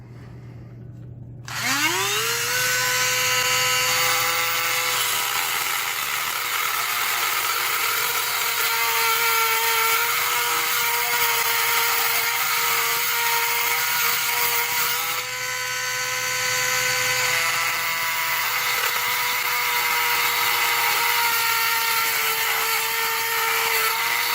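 Power drill bit cutting an undercut in a lock chamber, a sudden start into a sustained, loud whining tone that holds steady with slight pitch dips, running continuously with no talk.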